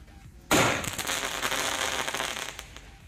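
A Diwali sky shot firecracker ignites with a sudden loud whoosh and burst, then a sustained crackling, fizzing shower that fades after about two seconds.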